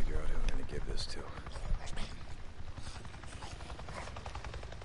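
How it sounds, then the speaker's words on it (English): A Nero helicopter in the video game Days Gone passes overhead, its low rumble and rotor chop filling the scene while someone talks excitedly over it and other game noises. "A Nero chopper! It just buzzed right over me."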